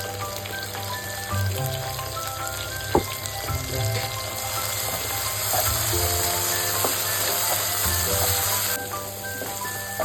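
Diced tomato and potato pieces fry in hot oil in a pan as part of a vegetable oats dish, giving a steady, close sizzle that holds for the full length over faint background tones, with no talking.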